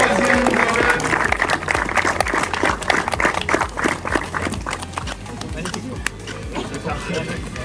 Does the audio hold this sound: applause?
yes